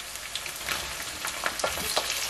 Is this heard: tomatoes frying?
yes